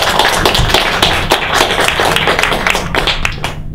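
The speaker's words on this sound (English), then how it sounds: "please give yourselves a round of applause" Clapping from an audience at a Peace Café evening gathering, a steady patter of many hands that stays fairly loud and even throughout before thinning slightly at the end.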